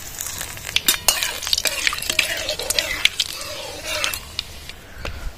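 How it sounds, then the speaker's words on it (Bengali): Nigella seeds and dried red chillies sizzle in hot mustard oil in a wok, a steady loud crackle with sharp spattering pops and occasional stirring, no talk over it. "ফোড়নে কালো জিরা শুকনো লঙ্কা দিয়ে দিলাম"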